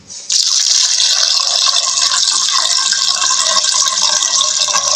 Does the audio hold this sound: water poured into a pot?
yes